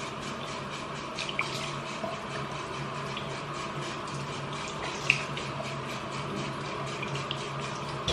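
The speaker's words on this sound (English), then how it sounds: "I rinse everything off with cold water." Cold tap water runs steadily from a faucet into a sink while a face is rinsed, a continuous close hiss and splash with small irregular droplet spatters.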